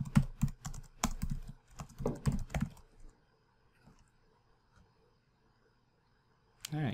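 Keys on a computer keyboard are typed in quick bursts of close clicks for about three seconds, followed by near silence and a brief final flurry.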